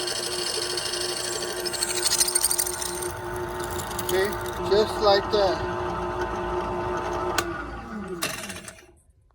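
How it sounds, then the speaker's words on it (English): An electric drill hums and grinds steadily while drilling holes through aluminum at moderate volume, with a person talking briefly over it before it winds down. "so you finish drilling all your holes"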